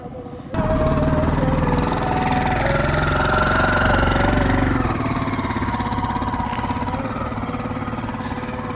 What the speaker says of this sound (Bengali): তো এরই মধ্যে দিয়ে এক সিএনজি চলে আসছে।